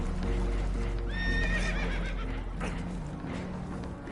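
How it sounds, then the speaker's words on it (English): Spooked horses in the Red Dead Redemption video game give a sharp, shrill whinny over a continuous rumbling background, with faint hoof clatter mixed in. "Horses are spooked, and we're taking on water."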